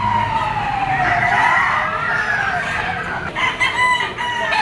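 Stag roosters crow loudly and close at a poultry auction market in Lipa, long rising and falling calls that overlap, with other birds and a busy crowd murmuring faintly behind.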